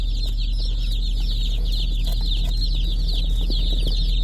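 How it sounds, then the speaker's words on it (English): A box of about 110 meat chicken chicks peeping nonstop, a dense chorus of high chirps close by over a steady low engine hum. "Supposed to be 110 chicks."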